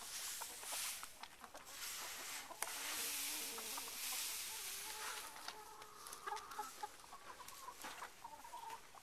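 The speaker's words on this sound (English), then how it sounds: "And the chickens." Chickens on a farm where rabbits are also being fed, clucking faintly and irregularly in short bursts that carry on through the whole stretch, with no talk over them.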